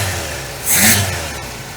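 A 1958 Cadillac engine runs at a steady idle, then gives one brief, sharp rev blip before settling back to its low, even running.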